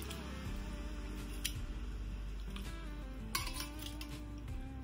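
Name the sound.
chicken bones being added into a pot of water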